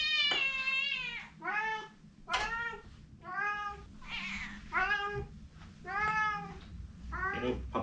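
Loud, repeated meows from a hungry house cat begging for food at mealtime, about eight drawn-out cries in a steady rhythm, close to the listener, with no talking.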